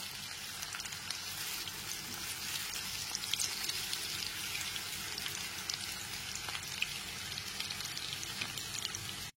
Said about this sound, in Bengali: গ্যাসের ফ্লেমটা লো টু মিডিয়ামে রেখে ওলগুলোকে ভেজে নেব।